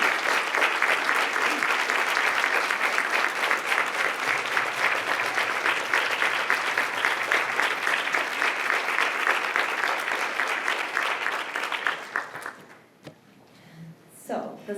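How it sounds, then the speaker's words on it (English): A large audience applauds the award nominees at the Silent Samaritan 2023 ceremony, dense steady clapping for about twelve seconds before it tapers off, leaving a quiet room with a few faint sounds. "please stand for one great big round of applause"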